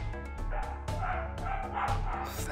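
A dog indoors barking and yipping in a quick run of sharp calls, close and fairly loud, with no talking.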